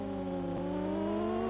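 Synthetic car engine from a 1993 solo racing video game drones steadily with a rising pitch and a brief dip midway, continuous and moderately loud throughout.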